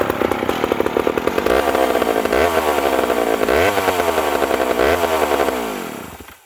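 A ported, custom-built 70cc Mac 10-10 chainsaw cuts hickory. The engine snarls at high revs, dipping and recovering several times as it bogs into the hard wood, then winds down at the end. It is loud and close, with no talking.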